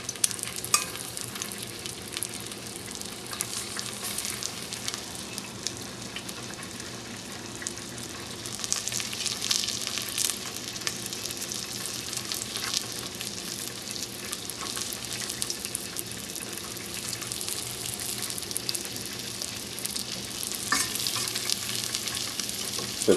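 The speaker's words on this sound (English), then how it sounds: "Once the butter is melted, you can start putting your shrimp in the pan." Shrimp frying in melted butter in a saucepan, a dense continuous sizzle and crackle lasting throughout, close and steady with occasional louder spits and no talk.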